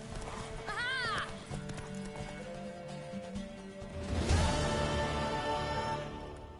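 A horse in The Witcher 3: Wild Hunt neighs, then its hooves clip-clop at speed into a louder galloping rush, with game sound and a voice in the background.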